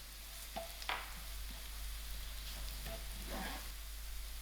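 Garlic and cumin seeds frying in oil in a pan, a faint, steady sizzle under a low hum, with a few soft clicks and stirring scrapes.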